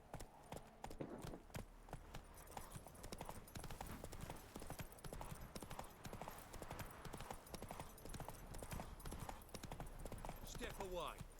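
Hooves of the horse Roach clip-clop at a steady trot in The Witcher 3, close and continuous, with a voice speaking over the rhythm.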